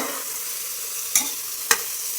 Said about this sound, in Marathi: असं हलवत राहायचं याच्यामध्ये दोन चमचे मीठ टाकायचं परत हलवायचं